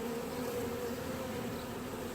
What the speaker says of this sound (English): the bees are actually doing the whole flapping dance around the entryway, flapping their wings